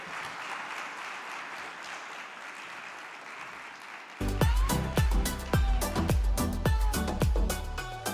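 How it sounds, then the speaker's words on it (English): A conference audience at a women's leadership forum in Uganda claps steadily for several seconds, then loud rhythmic music with a heavy beat takes over. "A round of applause to Ms. Danielle once again."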